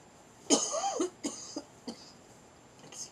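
Several coughs close to the microphone, one strong fit followed by a few smaller coughs spaced out over a few seconds.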